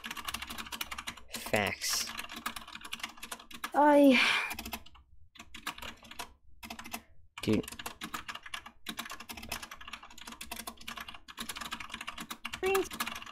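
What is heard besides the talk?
typing on a computer keyboard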